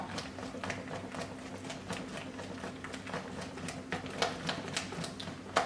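Whisk or spoon repeatedly scraping and tapping a bowl while melted butter is mixed into lemon poppy seed cake batter, giving a steady run of close, crisp clicks with no voices.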